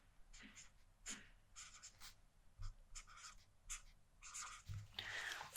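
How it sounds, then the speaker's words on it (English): A pen scratches across paper in short, irregular bursts of close-up writing strokes at a secretary's desk, soft and intimate, with quiet pauses between the strokes and no talking. "So, I will just write that down here."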